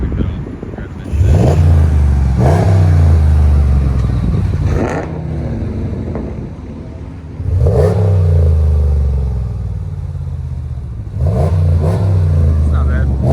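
A 2021 RAM 1500 with the 5.7L HEMI V8 and a Flowmaster Super 44 exhaust revs hard in three loud, close bursts, each falling back to a rumbling idle between pulls.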